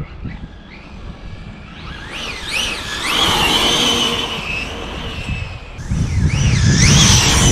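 A Traxxas 6S rally RC car launches at full power, its electric motor rising in a high whine that swoops up and down as it pulls away, with the tires hissing on the ground. A second surge comes near the end.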